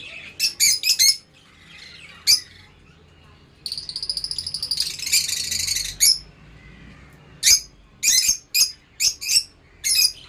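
Lutino lovebirds close by let out loud, sharp squawks in short clustered bursts, with a stretch of rapid buzzing chatter in the middle and brief quiet gaps between calls.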